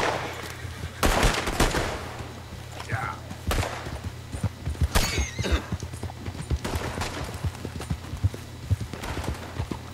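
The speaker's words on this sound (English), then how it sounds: "Yeah, just shoot off and scare away all your game!" Gunfire in the video game Red Dead Redemption 2, several sharp broadband shots scattered irregularly over horse hooves clip-clopping and a horse whinnying, with a steady low hum underneath.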